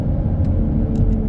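A Volvo V60 T6 Polestar with a 3.0-litre turbocharged straight-six, 350 hp and 500 Nm, accelerating hard during a 0–100 km/h run, giving a steady, loud, low engine rumble throughout.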